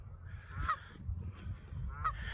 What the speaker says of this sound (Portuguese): Olha os gansos ali